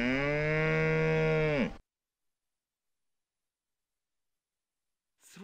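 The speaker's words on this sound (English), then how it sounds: "One cow." Cow mooing in an educational reading and counting game, a single long, loud moo lasting under two seconds, followed by silence.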